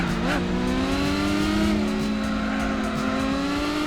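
A Cadillac Cien concept car in Gran Turismo 4 revs hard and accelerates, its engine note holding steady and then climbing. The loud, sustained engine tone runs alone with no talk over it.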